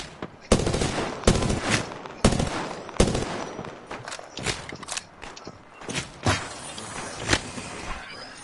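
Enemy gunfire in a battle royale video game: sharp, loud bursts of shots crack out in irregular clusters, some rapid and automatic, others single reports, with quieter scuffling between them.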